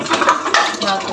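Dishes, pots, pans and cutlery clink and clatter close by during washing, a quick burst of bright ceramic and metal knocks.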